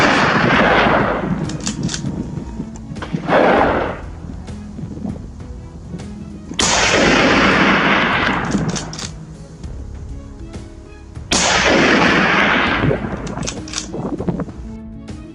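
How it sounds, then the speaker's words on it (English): Three or four loud gunshots from a wild boar hunt crack out several seconds apart, each followed by a long rolling echo that fades slowly across hills. "the first gunshot echoed through the hills"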